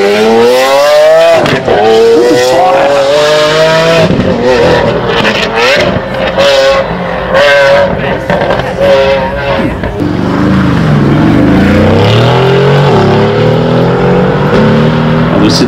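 A Porsche GT3 supercar with a manual gearbox launching and accelerating hard at the Heveningham Concours of Elegance, loud revving climbing through gear changes with a second car following, and spectators talking throughout.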